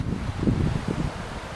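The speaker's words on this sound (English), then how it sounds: "it's a bit windy" Low, blustery wind beside a river in Norway buffets the microphone in a steady rumbling rush, close and fairly loud, with no voices.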